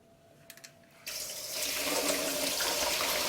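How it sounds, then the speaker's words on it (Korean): Blueberries are washed under a running tap, with a few soft clicks followed by a sudden steady gush of water that grows fuller and keeps streaming close by. "블루베리를 씻어 보겠습니다"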